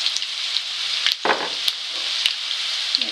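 Chopped onion fries in hot oil for aalu tama, a steady close sizzle broken by a few sharp clicks of a spoon against the pan and a brief stirring scrape, with no talking.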